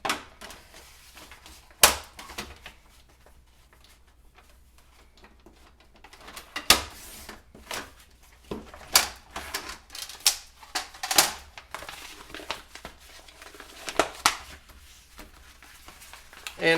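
Transfer tape for a Rae Dunn–style home decor craft being cut to about 10 inches, giving sharp scattered snips and rustling handling noises in bursts over a quiet background, with no talking.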